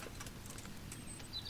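Horse hooves clip-clopping on the ground in the medieval role-playing game Kingdom Come: Deliverance, a steady faint patter of steps over a low ambient bed, with no talking.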